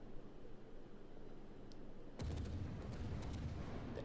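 Warship guns fire in World of Warships during a Halloween event, a low rumble that breaks into a heavy booming salvo about halfway through, followed by scattered crackling shots.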